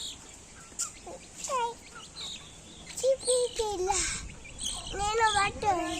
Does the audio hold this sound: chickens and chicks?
yes